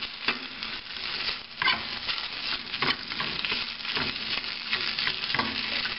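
Spinach sautés in oil in a pan, a steady crackling sizzle broken by repeated scraping stirs, close and unvoiced.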